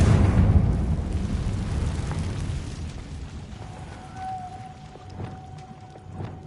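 Confringo blasting spell explosion in Hogwarts Legacy, a heavy low boom at the start decaying into a long rumbling tail with a thin ringing tone and small pops later.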